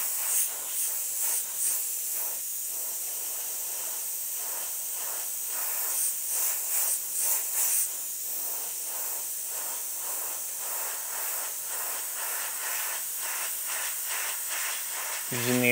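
A steady, fine spray hiss, like an airbrush laying down paint, runs continuously and close with slight pulsing, ending in a brief thump.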